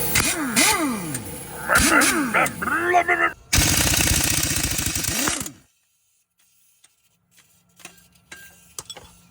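A ratchet with a 15mm socket works on the flywheel bolts of a 1998 Pontiac Trans Am during clutch removal. A loud, sustained rattling burst lasts about two seconds after some talking, then quiet follows with scattered faint clicks.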